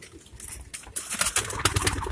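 Pigeons coo repeatedly in a loft, soft throaty calls layered with brighter bird sounds that grow busier and louder toward the end, with no talking.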